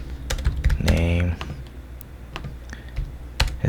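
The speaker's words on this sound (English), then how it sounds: "we're gonna type in const name" Code typed on a computer keyboard, a quick run of close clicky keystrokes under and between a speaking voice.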